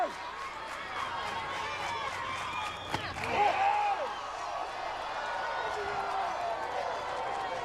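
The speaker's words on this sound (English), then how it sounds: "And now we hear some of the hometown crowd" Hometown crowd at a baseball game in Laurel, Sussex County, Delaware, a steady broadband murmur of many voices with a brief thump and a rise of cheering near the middle, then continuing general crowd noise.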